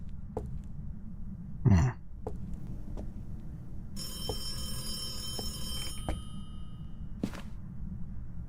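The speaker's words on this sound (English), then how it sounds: "Where's his phone that keeps ringing?" Phone ringing inside a haunted house in the Phasmophobia video game: a faint, high electronic ring lasting about two seconds sits over a low background rumble, with a short vocal noise and scattered soft clicks around it.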